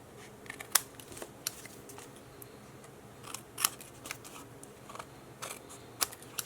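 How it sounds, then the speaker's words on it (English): Paper snips crunch and click as they trim excess paper from a craft card, with irregular crisp cuts and small rustles, close and quiet with no talking. "I'm just going to use my paper snips and cut off the excess"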